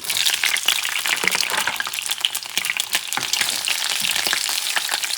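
Six shrimp fry in a pan for a traditional shrimp paella, a steady dense crackling sizzle with faint stirring, close and continuous throughout.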